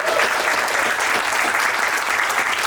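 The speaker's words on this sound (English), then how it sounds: "Let's give them a round of applause." Loud, sustained applause from an audience at an affordable housing funding announcement in Massachusetts, a dense steady wash of many hands clapping with no voices on top.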